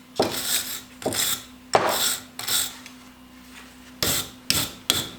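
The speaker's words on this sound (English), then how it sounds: "I cleaned the threads off a bit with the wire brush" A wire brush scrubs the rusty threads of a U-bolt on a blacksmith's post vise, about eight sharp raspy strokes in an uneven rhythm, close and loud over a faint steady hum.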